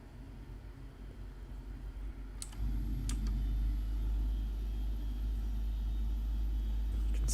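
The number 1 engine of a Boeing 777 spools up during start in the PMDG flight simulator, a low rumbling roar that swells sharply partway through and then holds as a loud, steady drone, with a couple of brief clicks.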